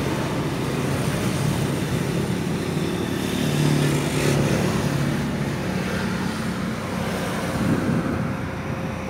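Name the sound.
Toyota Innova 2.0L CNG engine revving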